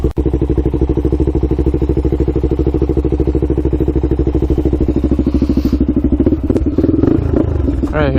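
The engine of a Honda 400EX quad runs loud and close with a fast, steady thumping idle for several seconds before it rises into a brief rev near the end, with some clatter. No one speaks.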